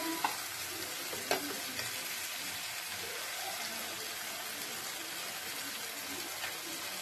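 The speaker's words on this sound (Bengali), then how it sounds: "ভালো করে এটা মশলাটা নাড়িয়ে নাড়িয়ে যতক্ষণ না তেল ছাড়ছে মশলা থেকে ততক্ষণ পর্যন্ত এটাকে রান্না করতে হবে।" Masala being stirred and fried in oil for malai soya chaap, a dense continuous sizzle with occasional scraping knocks of the spatula against the pan, steady and close throughout, no talking.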